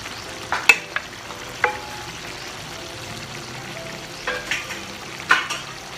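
Potatoes tipped into a pan of simmering Ilocano-style igado, with a soft steady frying bed broken by a few sharp clatters and stirring scrapes, moderately close with no talk.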